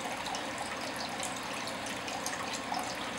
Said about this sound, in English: Now the water is entering the backup drain,